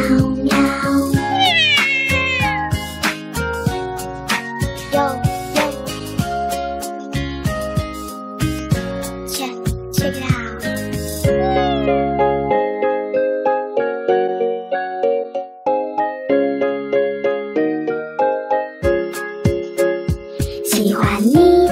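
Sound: singer imitating cat meows in a song

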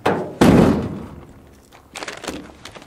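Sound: door slammed shut

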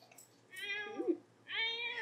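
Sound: cat meowing in a video game

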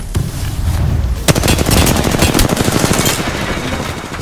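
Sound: gunfire in the video game Apex Legends

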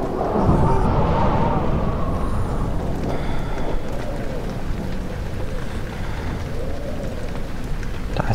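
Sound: wind blowing in the video game Amnesia

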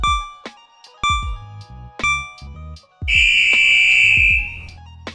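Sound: game timer running out

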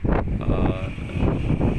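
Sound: strong wind on a swaying bridge

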